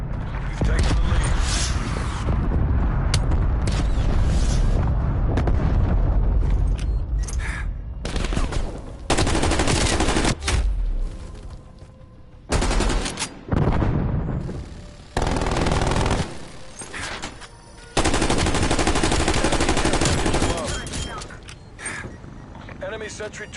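Sentry gun turret in a multiplayer shooter rattling off long bursts of automatic fire, loud and close, broken by brief pauses, with heavy combat noise around it and voices talking over the action.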